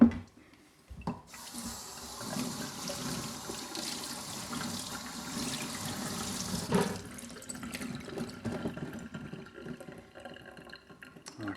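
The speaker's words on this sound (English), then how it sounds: "I'm gonna rinse it." Running tap water pours steadily over a primary telescope mirror being rinsed in a sink, a continuous close splashing hiss that later breaks up into uneven trickles and drips.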